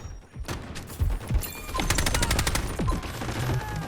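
KC17 gun firing in the mobile shooter Delta Force, a fast close burst of automatic shots in the middle of the stretch, preceded by a few scattered single shots and clattering game noise.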